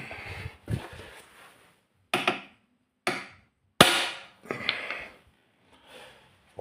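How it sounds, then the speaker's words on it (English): Hammer strikes on material while rigging up rubbish, about six sharp impacts in irregular bursts, close and loud with short decays and gaps between blows, no talking. "I'm gonna have to use a hammer."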